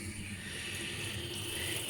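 Cold water running steadily into an old bucket to mix wallpaper paste, a continuous close, even splashing fill with no talk over it.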